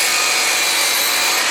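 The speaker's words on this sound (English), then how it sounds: "I'll find the angle on the miter box for these, and then I'll go ahead and cut both ends of all these" Handsaw in a miter box cutting lumber for a trestle picnic table, a loud, close, continuous rasping stroke through the wood, without speech.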